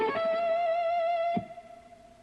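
Distorted electric guitar playing a lick that descends three octaves, a sustained effects-laden tone ringing loud for over a second before cutting off and fading.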